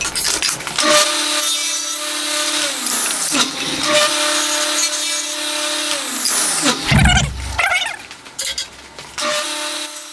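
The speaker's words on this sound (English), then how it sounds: "cut it to size and rip it to the proper length" A power saw cutting and ripping a glued-up oak board, a loud close whine that rises and drops as the blade bites through the wood in several passes, with no speech.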